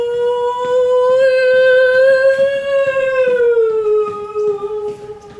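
A person's voice imitates an ambulance siren with a single loud, sustained wailing tone that rises slightly and then slides down in pitch, as if the siren were passing by. The voice is heard alone.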